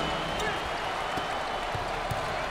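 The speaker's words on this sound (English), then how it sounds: "Full house and a packed crowd, and they are into it tonight." A packed home crowd roars steadily at a Big XII Tournament basketball game between UCF and BYU, a dense wall of cheering and applause filling the arena with brief louder surges.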